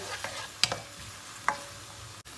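Onions and garlic sauté gently in a pan, a soft low sizzle broken by a couple of brief utensil clicks and stirring scrapes.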